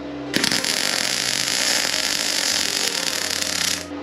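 A Vevor MIG-250 welder runs a bead on 2 mm-thick steel tube, giving a loud, steady crackling hiss that starts abruptly and holds for about three and a half seconds before cutting off.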